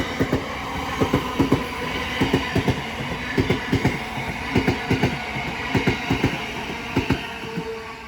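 Train 707020 rolls through New Cross on the South Eastern main line, near and loud, its wheels beating a steady rhythmic clickety-clack in paired knocks over rail joints, with no talk.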